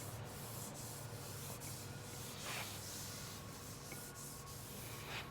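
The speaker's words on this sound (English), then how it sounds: "I'm just sanding with 800 quick." Steady dry abrasive rubbing of 800-grit sandpaper over a custom paint job, a continuous soft hiss with faint periodic strokes, close and even throughout.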